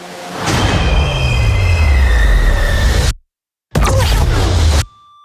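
Metro train in a Netflix action film, wheels screeching loudly in long high squeals over a heavy rumbling roar, then a brief cut to silence before the loud rolling noise returns and stops abruptly.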